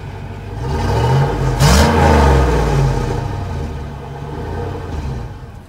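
A classic American fuel-injected V8 idles with a deep rumble, then revs up sharply and loudly before settling back to a steady throaty idle, heard up close.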